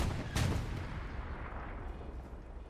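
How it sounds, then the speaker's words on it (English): A tank cannon round strikes and ricochets off the front armor of a Sherman in a tank video game, one sharp loud impact followed by a long rumbling decay into low background noise. "More shots ricocheting off that"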